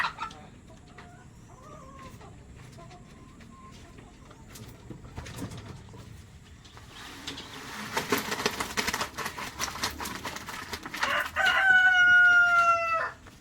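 Chickens in a layer house cluck and call, building to busier flock noise, then a rooster crows loudly near the end.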